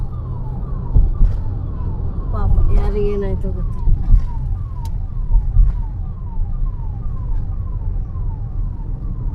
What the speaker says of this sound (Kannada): ಆಂಬುಲೆನ್ಸ್ ಬರ್ತಾ ಇದೆ ಕಾಣಿಸ್ತಾ ಇದೆಯಾ